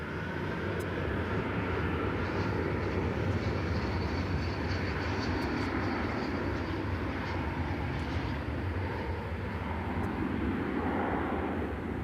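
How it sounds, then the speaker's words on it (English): An American Airlines Airbus A321 arriving at DFW airport at night, a steady broad jet engine roar heard from a distance, unchanging in level and continuous throughout. "American Flight 2028, Airbus A321"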